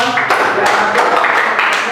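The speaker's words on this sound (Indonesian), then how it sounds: "tepuk tangan untuk kelompok 2" A burst of clapping from a group in a classroom, dense and steady for a couple of seconds, with voices mixed in.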